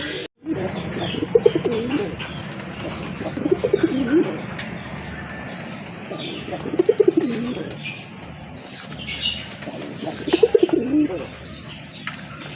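A large, vigorous male pigeon coos loudly and close in repeated bursts about every three seconds, with faint chirps and background noise between calls.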